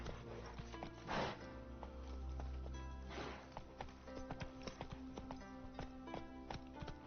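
Horse hooves clip-clop at a steady trot while riding in The Witcher video game, a faint, even rhythm of hoofbeats with low background game music and no speech over it.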